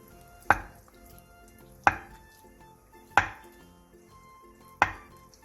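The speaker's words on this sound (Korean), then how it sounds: "두부 한 모를 먹기 좋은 크기로 큼직하게 잘라주세요" A large block of handmade market tofu is cut into big pieces with a knife on a cutting board, four separate sharp chops spaced well apart against a quiet kitchen background.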